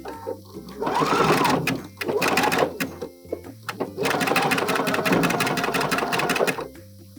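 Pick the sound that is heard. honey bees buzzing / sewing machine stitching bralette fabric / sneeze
sewing machine stitching bralette fabric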